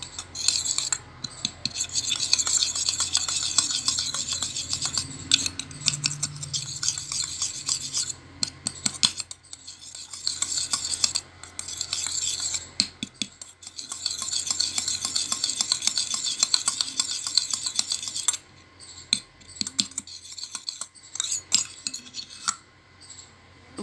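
Homemade clay being stirred and mixed by hand, a steady gritty rasping and scraping that runs continuously with brief pauses, close and fairly loud, no talking.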